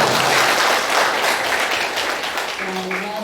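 Students at a high school student council accountability report session clap together loudly, a dense burst that fades slightly toward the end as a voice begins speaking over it.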